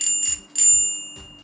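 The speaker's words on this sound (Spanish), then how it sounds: "un timbre que seguramente nos librará de más de un susto" The bell on a Fotona Mobility electric bicycle rings in quick, bright dings, two close together and then a third after a short pause, with no one talking.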